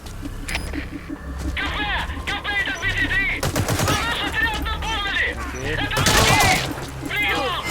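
Unsuppressed gunfire in the Metal Gear Solid V video game, several sharp loud shots and short bursts scattered among game voices, radio chatter and background effects.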